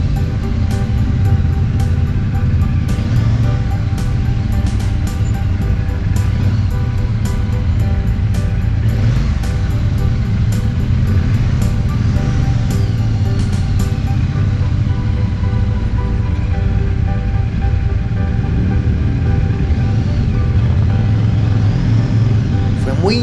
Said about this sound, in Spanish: quedar atrapados en el congestionamiento vial y vernos obligados a filtrar entre los autos